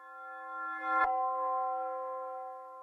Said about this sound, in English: it's a bell effect, which sounds like this.